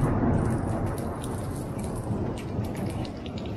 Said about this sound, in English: getting some beautiful mushroom rain